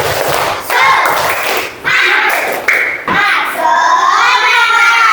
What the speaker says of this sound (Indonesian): mari kita tepuk semangat dulu